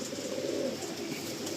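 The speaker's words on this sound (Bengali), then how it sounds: "এটা ম্যাড্রাস ওল্ড পায়রা।" An Andhra or Madras old-generation pigeon coos softly and steadily, a low murmuring call heard close by with no talking over it.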